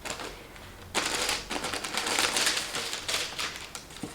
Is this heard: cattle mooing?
no